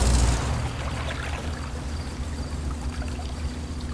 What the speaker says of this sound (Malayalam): കളകളും വെള്ളം ഒഴുകുന്ന ശബ്ദം കേട്ടോണ്ടിരിക്കുന്നത്.